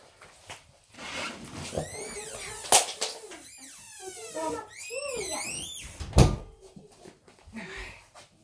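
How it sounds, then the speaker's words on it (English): A household door creaking, long rising and falling squeals swinging back and forth, with thumps and clatter as it moves, close and fairly loud, no talking. "The door's creaking."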